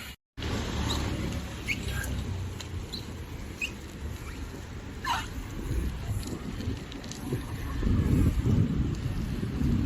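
Steady, blustery wind roar buffets the microphone while cycling on a foggy day at Old Airport, Doha, Qatar, with faint bike rattles and clicks underneath, growing a little stronger near the end.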